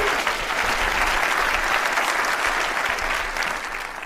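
Loud, sustained applause from a large audience at a talk on bionic limbs, dense clapping holding steady for several seconds before easing slightly.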